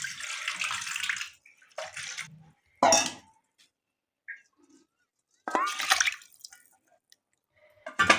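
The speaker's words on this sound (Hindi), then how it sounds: "अब थोड़ा सा पानी और डालेगा इसमें" Water is poured into a cooking pot of rice and potatoes in several separate splashing bursts, close by, with quiet pauses and a few faint clinks between pours.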